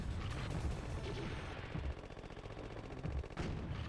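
Rapid shots fired at a boss in the Contra video game, a steady stream of pops with a couple of heavier bursts, fairly quiet and continuous across the moment.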